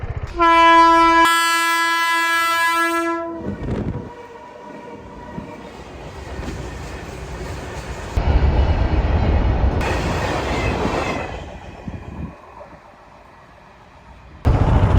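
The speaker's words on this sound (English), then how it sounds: "I'm sure the train will be coming through pretty soon." A train horn blares loudly for a few seconds at a railway crossing with barriers down, then the train rumbles and clatters past close by, its noise swelling and easing.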